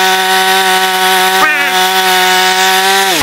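A 3-in-1 multi brush cutter trimmer, adjustable to 270 degrees, cutting grass: a loud, steady engine whine with strong harmonics runs throughout, with a brief dip in pitch midway and a drop at the end.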